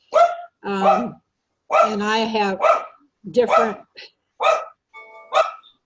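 Dogs bark in a series of short, loud yips and woofs close by, spaced irregularly, while a person speaks briefly between the barks.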